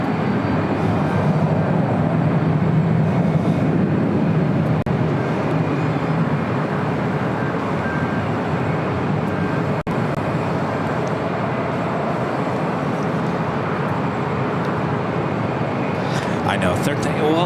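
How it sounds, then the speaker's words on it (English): United Airlines Boeing 737-900 jet taking off from the south side at LAX, a steady loud roaring engine rumble that holds for a long stretch while people talk over it. "Next takeoff here on the south side is United Airlines with 2374 heading to Phoenix in a 737-900."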